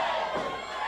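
Crowd cheering and shouting at an 880 Wrestling rumble event, a dense, loud roar that fills the whole moment without a break.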